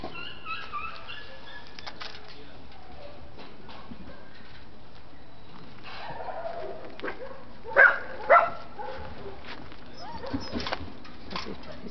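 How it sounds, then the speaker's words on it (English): Two quick, high yaps from puppies stand out against a quiet, muffled background with faint scattered noises. "small puppies, big puppies, beautiful puppies, fluffy puppies, short-haired puppies, puppies everywhere."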